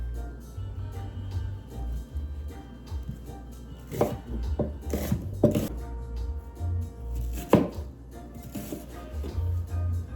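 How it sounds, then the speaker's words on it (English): A knife chops onion on a cutting board in irregular bursts of sharp taps, close by, with some quiet handling noises between cuts. "I'm chopping up my onion."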